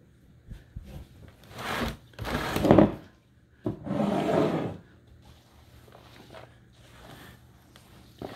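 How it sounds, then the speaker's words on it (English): Rye grain spawn being stirred by hand into sterilized wood pellet substrate in a tub for shiitake mushrooms, giving bursts of dry, gritty rustling and scraping that come and go, loud at times and then quieter. "So we're going to be stirring that up, mixing it by hand."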